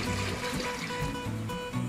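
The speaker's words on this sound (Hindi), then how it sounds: "तकरीबन 14 किलो पानी डालें।" Water poured into a large cooking pot for a deghi-style chana pulao, a steady splashing trickle that runs continuously throughout, close and fairly loud, with no one talking.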